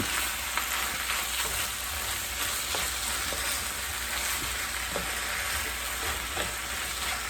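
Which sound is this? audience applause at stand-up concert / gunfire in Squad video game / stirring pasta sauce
stirring pasta sauce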